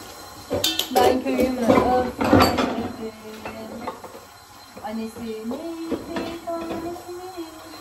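Dishes, pots and cutlery being washed at a kitchen sink, with clattering metal and ceramic knocks in a busy burst, then quieter handling while someone talks and hums.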